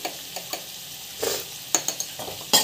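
Chana dal with green chillies and turmeric sautéing in a pan: a soft steady sizzle broken by several scraping stirs and light clinks of a spoon against the pan, with no talking.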